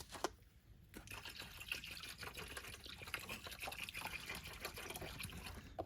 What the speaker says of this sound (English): Dump the rest of these water bottles in.